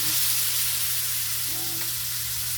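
Tofu sisig sizzles steadily in a hot pan, a constant dense frying hiss with a faint low hum beneath it and no talking.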